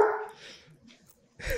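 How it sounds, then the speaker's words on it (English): A dog barks at close range, one sharp bark at the start and another after a short quiet gap, with a faint whimpering sound in between. "What the hell is he barking at?"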